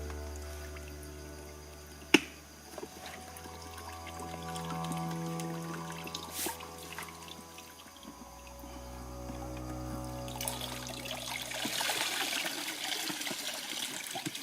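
Water trickles and dribbles out of a flooded underwater camera housing in a steady, close stream, with a sharp click near the start and a fuller gush toward the end.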